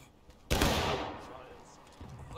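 A close musket volley from a line of soldiers in the War of Rights Civil War game cracks out as one loud, dense burst and rolls away slowly, with faint voices before and under it.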